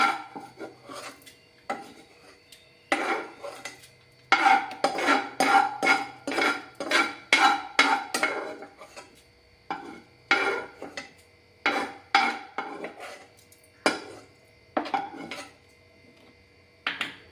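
Coconut being roasted in a pan for ragi balls is stirred with a utensil, giving repeated rasping, scraping strokes in bursts with short pauses, close and fairly loud.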